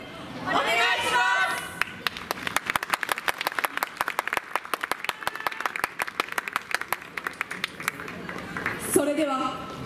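Steady rhythmic hand clapping from an audience keeping time for a dancer's performance, a dense even beat that carries on for several seconds, with a voice speaking briefly at the start and end.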